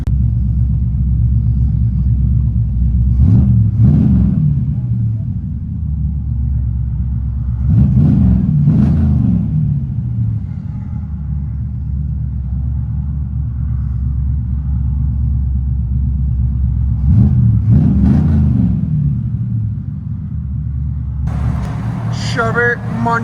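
A 1985 Chevy Monte Carlo with a 305 V8, true dual exhaust and straight pipes rumbles deeply from inside the cabin, with several throaty revs swelling over the idle and a voice speaking briefly.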